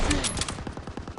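Rapid machine gun fire in the World War II shooter game Call of Duty WW2, a loud, dense burst of repeated shots rattling steadily for about a second.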